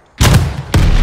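Mortar fire in the video game Call of Duty: Vanguard, two heavy booming impacts in quick succession, close and loud, each followed by a rumbling tail.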